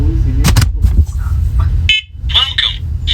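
A fourth-generation talking smoke and carbon monoxide alarm powers up with a couple of short, sharp electronic beeps and then several shrill chirps, heard up close alongside brief speech.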